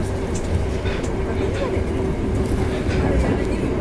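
A train in Japan rumbling along with a steady low drone and faint rhythmic rail clatter, moderately distant, with faint voices in the background.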